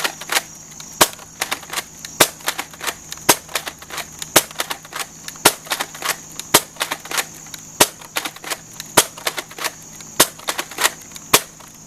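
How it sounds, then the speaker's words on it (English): A Nerf Recon Mk II toy blaster is fired repeatedly with its pump grip, giving sharp, close plastic snaps at a quick, fairly regular rhythm, each shot preceded by a fainter clack of the pump being worked. "I'm actually going to fire this left-handed so my arm's not covering up any of the pump grip here."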